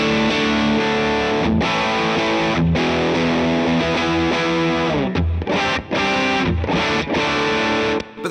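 A Divided By 13 RSA23 amp pushed by a front-end volume boost, with the master near three-quarters, carries a thick, distorted electric guitar playing loud chords and riffs, steady throughout with a few brief gaps between strums.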